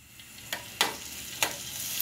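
Nuts and raisins fry in hot ghee as a soft, steady sizzling hiss, with a few sharp crackles or spoon scrapes popping out at intervals, close and fairly quiet.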